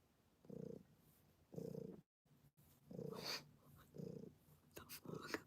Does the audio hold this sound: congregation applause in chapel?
no